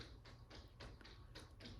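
A cat scratches at a back door, repeated soft scraping bursts about every quarter second, faint and close-ish, with no voices.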